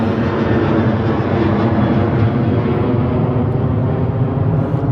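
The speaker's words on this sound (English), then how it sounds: "I'm going to wait for the plane to stop flying over." A loud airplane drones steadily overhead above a garden where trellis netting is being installed, a constant broadband roar that holds for the whole stretch with no talk.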